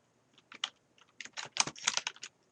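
Short bursts of keystrokes clatter on a computer keyboard, close and crisp, with brief pauses between quick runs of typing.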